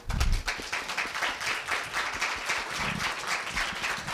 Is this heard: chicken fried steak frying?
no